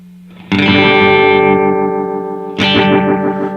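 An electric guitar runs through a fast analog delay pedal and a compressor, ringing out loud sustained chords that repeat quickly and decay smoothly, with a second strum near the end.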